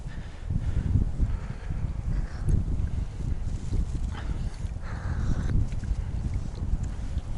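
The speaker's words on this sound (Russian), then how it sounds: "Ветер порывами, то ничего тогда." Gusty autumn wind buffets an outdoor microphone at a lakeside pike fishing spot, a constant low roaring rumble that swells and eases in waves with no talk.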